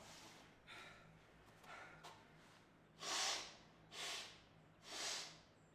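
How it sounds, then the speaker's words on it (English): Someone blows their nose in three short, breathy bursts about a second apart, close and fairly quiet after a few softer sniffs in a still room. "Do need to blow my nose though."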